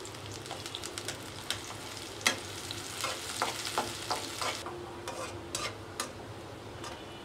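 Onion and garlic frying in mustard oil give a bright, continuous sizzle, close and fairly loud, with intermittent spatula taps and stirring scrapes against the pan and no talking.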